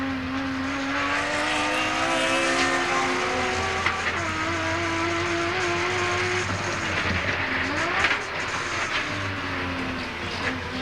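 Touring car race engine heard from onboard during a 1989 Australian Touring Car Championship round at Mallala, a loud sustained high-revving drone whose pitch climbs and drops with gear changes over constant wind and road roar.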